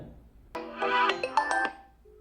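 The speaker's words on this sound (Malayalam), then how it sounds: "അതുകൊണ്ട് തന്നെ ഞാൻ വീഡിയോ കോൾ ചെയ്യാണ്." A WhatsApp video call rings between two mobile phones held side by side, producing a short, clear electronic ringing chime of a second or so in a quiet room.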